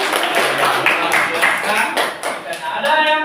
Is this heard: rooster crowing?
no